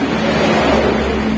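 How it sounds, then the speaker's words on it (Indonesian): A Honda Beat FI scooter idles with a rough, steady drone from the engine and CVT area, a low constant hum heard up close without any voices. "Ini suara mesin pada bagian tengah ataupun pada CVT-nya"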